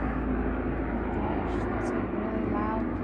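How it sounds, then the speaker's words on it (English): A helicopter flies overhead above a front yard garden, making a loud, steady roar that holds throughout, with someone talking underneath. "Oh, it's a helicopter."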